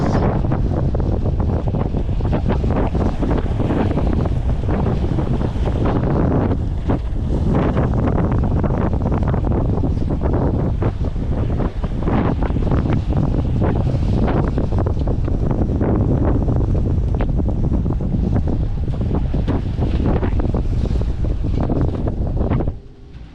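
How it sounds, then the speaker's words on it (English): Strong, gusty wind roars and buffets continuously against the microphone on a sailboat at sea, with a rough, surging noise of waves and the boat moving through water. "Still pretty windy."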